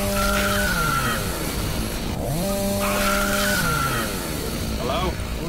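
A chainsaw from the video game Doom 3 revs up loud and harmonic in two long rising-and-falling bursts, each winding up and dropping off, with a dense, continuous motor roar between them.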